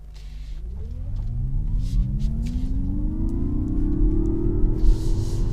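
Mazda MX-30 electric car accelerating on a country road, a steady low rumble with a rising whine that climbs smoothly over several seconds, close and continuous with faint road noise, no talk.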